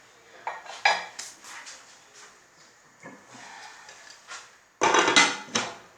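A pan of onions frying in oil is covered with a lid: a run of clanking metal-on-metal knocks and scrapes up close, ending in a louder cluster of clatters.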